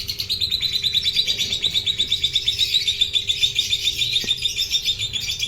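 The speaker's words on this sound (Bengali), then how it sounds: "এই মুহূর্তে অর্ণবের হাতে যে পাখিটা রয়েছে সেটা রয়েছে একটা ব্লু পারব্লু ফিশার।" A blue parblue Fischer's lovebird chick held in a hand chirps in a rapid, continuous stream of high thin peeps, close and fairly loud, with a faint low hum beneath.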